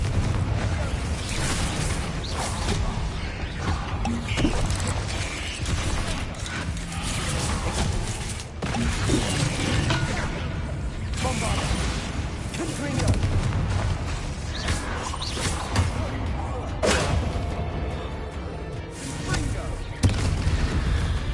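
Confringo fire-blast spells exploding during a Hogwarts Legacy duel, dense booming blasts and impacts running continuously under in-game voices and combat noise.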